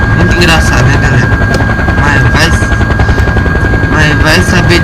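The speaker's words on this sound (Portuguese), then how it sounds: "vamos aterrissar esse helicóptero" A helicopter in Farming Simulator 2015 thumps with loud, continuous rotor chop and engine roar while it comes in to land, with someone talking steadily over it.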